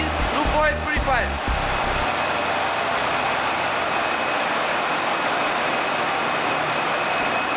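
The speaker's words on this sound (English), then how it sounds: "Main engine and auxiliary engines loop oil purifier." Main and auxiliary engine lube oil purifier running in a ship's engine room: a loud, steady broadband mechanical roar with a constant whine, opening with a few brief clanks before settling into continuous noise.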